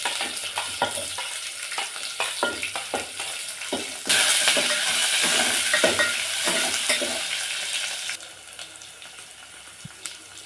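Chana dal, green chillies and onion frying in a pan, with steady sizzling and spatula stirring that grows louder midway and then eases, close and continuous without talk.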